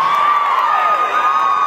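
A comedy club audience cheering and whooping at a stand-up show, a brief, bright burst of shrill crowd voices and shouts, loud and close, holding steady for under two seconds.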